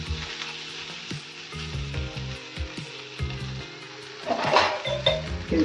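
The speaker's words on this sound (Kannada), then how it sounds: "ತವ ಕಾದಿದೆ. ಈಗ ಸ್ವಲ್ಪ ಎಣ್ಣೆ ಹಾಕ್ಕೊಂಡಿದ್ದೀನಿ." Oil sizzling on a hot tawa as a paratha cooks: a steady close crackling hiss that flares louder near the end, with a tonal musical background throughout.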